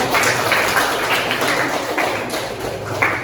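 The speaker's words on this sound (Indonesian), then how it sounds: "Tepuk tangan untuk kelompok 4" Applause for a student group presenting in a mathematics class, a dense, steady patter of many hands clapping close by without pause, with no talk over it.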